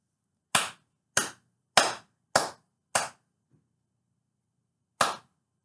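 Six sharp hand claps in an otherwise quiet room: five evenly spaced claps, a pause, then one more, each crisp and close.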